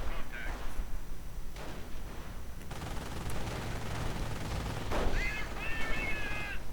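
Gunfire and sniper shots in a World War II strategy video game battle, dense crackling fire under a steady rumble, with distant shouts and whistling tones breaking through near the end.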